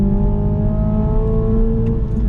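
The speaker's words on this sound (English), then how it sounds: "Man, does it rev for a 4-cylinder. It makes power all the way up top." A Toyota Supra with a four-cylinder engine revs on a race track, a steady loud engine drone with rising harmonics held close throughout, with no voices.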